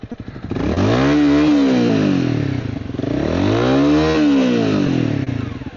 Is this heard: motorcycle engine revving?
yes